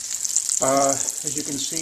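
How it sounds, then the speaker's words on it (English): Breaded veal brain pieces frying in a pan: a steady hiss and crackle of sizzling, with a person talking over it. "the veal brain pieces are frying up"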